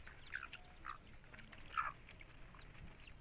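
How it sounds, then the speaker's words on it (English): A hen clucks in short, separate bursts, a few calls spread over a few seconds, while small coral fish are cleaned for drying nearby. Soft background noise sits under the calls. "If you can hear the hen, don't mind it, it's waiting for the guts of the fish to be thrown at them."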